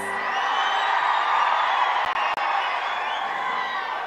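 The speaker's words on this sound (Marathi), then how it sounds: "प्रचंड उत्साहाने लोक टाळ्या वाजवत आहेत" A crowd at a political rally clapping and cheering in a dense, continuous roar at fairly close range, with a brief dip partway through.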